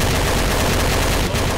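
Rapid gunfire from shooting zombies in a video game, a loud, dense, continuous burst of shots close up, with no voices over it.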